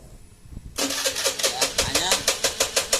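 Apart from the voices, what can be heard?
Honda Beat FI motorcycle engine starting roughly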